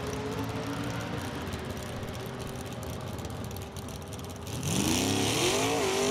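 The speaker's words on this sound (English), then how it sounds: "Decker on a 995 out of his Super Stock I automatic." Drag race cars, GTI and Super Stock I automatics, race down the strip with a loud, continuous engine roar, and a rising revving tone swells in toward the end as a car accelerates close by.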